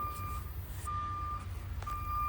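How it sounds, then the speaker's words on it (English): A truck's steady high reversing beep repeats at a regular pace, faint and somewhat distant, over a low background rumble. "Sorry for the beeping in the background."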